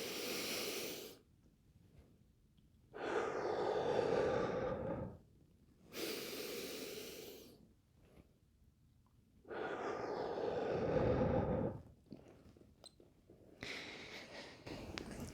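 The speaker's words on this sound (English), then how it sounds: "Practice sniffing air in your nose," During a breathing exercise, a person takes quick sniffs in through the nose and then lets out long, exaggerated, hissing exhales, repeating the cycle several times at close range with quiet gaps between breaths.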